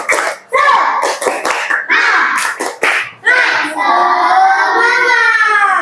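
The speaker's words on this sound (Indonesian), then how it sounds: "Sekali lagi, tepuk semangat" Schoolchildren repeat the 'tepuk semangat' spirit clap in class: bursts of claps mixed with energetic shouted syllables, ending in a long, loud group chant.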